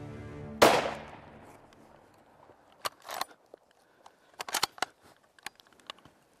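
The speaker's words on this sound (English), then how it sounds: "Got a good trigger pull" A single sharp rifle shot cracks out close and loud in open Missouri timber during a deer hunt, its echo trailing away, followed by scattered small clicks and rustles.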